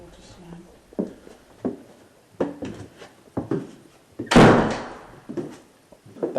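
Door inside the old Llanfyllin Workhouse slamming shut with one loud, heavy thud amid a series of sharp knocks and bangs, with people talking close by during a night investigation.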